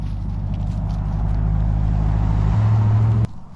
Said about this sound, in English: It's the part that borders the road here, so we get the traffic noises.